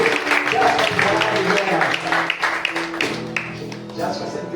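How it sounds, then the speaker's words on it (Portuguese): A church congregation applauds during a wedding service, giving a steady, full round of clapping with voices and music mixed in throughout. "a igreja diga amém e aplauda o Senhor Jesus"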